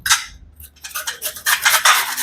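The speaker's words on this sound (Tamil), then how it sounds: "சின்ன துருவலில் போட்டு துருவிக்கிறோம்" Rapid, scratchy rasping of pumpkin being grated on a small metal grater, in quick irregular strokes, close by.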